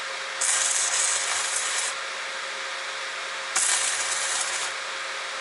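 Two bursts of harsh, hissing crackle from a welding inverter arc on 220 volts, each lasting over a second, with a steady electrical hum running between them.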